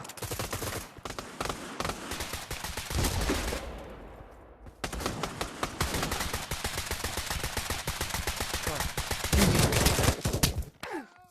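Gunfire in Pavlov VR, a virtual reality shooter, from a shotgun sniper build: dense, rapid bursts of shots crackle almost continuously, break into a brief quieter lull, then resume with heavy overlapping blasts through to the end.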